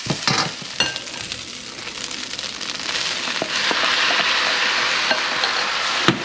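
Chicken fried rice ingredients sizzle and crackle in a hot pan while being stirred and warmed through, with loud steady frying, scraping of the utensil and occasional sharp clinks against the pan.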